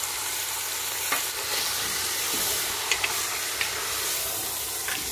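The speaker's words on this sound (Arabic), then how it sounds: "ونحرك المكونات حتى يندمجو ونخليهم يتقلاو ليا مزيان" Meat with onion, parsley and saffron sizzling and frying in a pot as it is stirred, a constant hiss broken by a few scraping stirs and soft clinks, with no speech.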